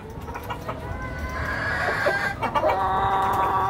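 Australorp hens and roosters on a farm cluck and call in a busy chorus, several birds overlapping near and farther off, with a brief crow-like call rising midway and steady clucking continuing to the end.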